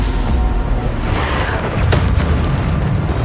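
A loud, booming blast from the Bombarda spell in Hogwarts Legacy sits within dense, continuous game noise, with a brief crash partway through and no pause in the sustained rumble.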